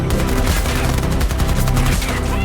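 Relentless, loud automatic gunfire in Battlefield 2042, a close and continuous rattle of rapid shots with no break.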